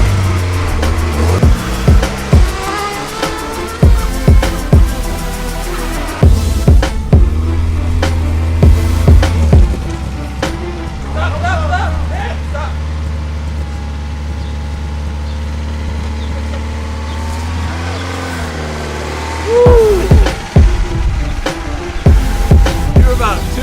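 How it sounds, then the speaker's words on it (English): An old stick-shift car is driven across a front-yard lawn, its mid-pitched engine humming and revving in surges with thumps and bumps, close by, while people talk. "We're gonna drive it right over to the middle of the lawn."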